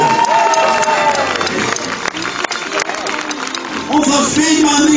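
Crowd cheering at a medieval festival tournament in Riegersburg, loud shouts and applause over an announcer's voice, swelling again near the end.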